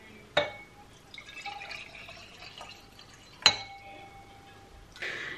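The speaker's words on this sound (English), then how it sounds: "I've just poured myself a glass of orange wine" Orange wine poured into a glass at home: two sharp glass clinks stand out, with a soft trickle and drips between them, heard close and quiet with no talk.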